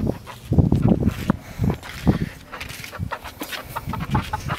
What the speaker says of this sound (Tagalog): Hanggang dito may manok.